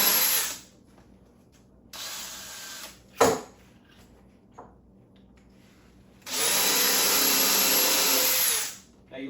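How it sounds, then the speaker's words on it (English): A hand reamer scrapes out a brass pen tube set in a wood blank for pen turning, with several short bursts of grinding and rubbing, the longest near the end, separated by quiet pauses. "I could not get enough pressure with this reamer to really do a whole lot with wood."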